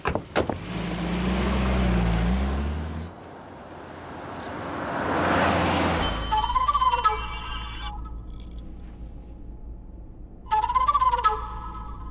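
Telephone ringing in bursts of electronic ringtone, with pauses between rings, following engine hum and a passing car at the start.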